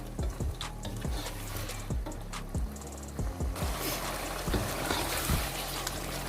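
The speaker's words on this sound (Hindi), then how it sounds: "इसको अच्छे से मिक्स कर लें और तकरीबन 2 से 3 मिनट तक इसको अच्छे से पकाएं" Meat for aloo gosht sizzles in a hot pan while being stirred, with a soft steady frying hiss broken by repeated light scraping and clinking taps of the spoon against the pan.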